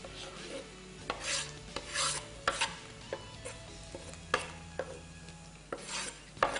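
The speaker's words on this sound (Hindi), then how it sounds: "ये हमने टमाटर ऐड कर दिए और उसके बाद अब इसको हमने थोड़ा सा डन करना है।" Tomatoes being stirred and sautéed with onion masala in a pan: repeated scraping spoon strokes over a low sizzle, close by and rhythmic, with no voices.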